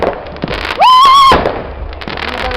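New Year's Eve fireworks in Contești burst in a loud, close volley: sharp pops and crackles with a rising whistling rocket in the middle, then scattered bangs trailing off.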